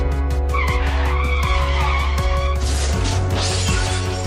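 A car's tires screech and skid as it swerves hard, a sustained loud squeal over engine noise that shifts sharply partway through, with no talk.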